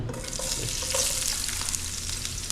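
Leftover cooking oil sizzles and crackles steadily in a wok, a dense close frying hiss with no one talking.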